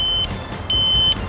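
An electric kick scooter with dual motors sounds its electronic horn button, giving two steady, high-pitched electronic beeps separated by a short gap, close and clear over quiet background hiss.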